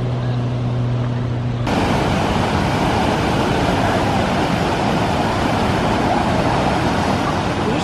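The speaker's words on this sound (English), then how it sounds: "Big waves." Large ocean waves surging and breaking at La Jolla's Children's Pool cove, a loud continuous roar of surf that swells sharply after a quieter opening moment and stays dense and close throughout.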